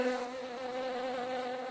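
A cartoon bee in a Little Critter children's story app buzzes in a steady, continuous drone throughout, close and unbroken, with no other sounds.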